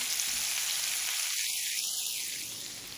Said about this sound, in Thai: แล้วก็ผัดจนจนแห้งเลยนะคะ